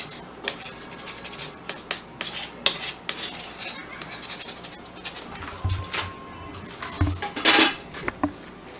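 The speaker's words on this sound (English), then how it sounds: "take a knife and just scrape up the blue" A knife scraping up blue dye on a work surface, heard as faint, scattered scrapes and light metallic clinks with quiet gaps between them.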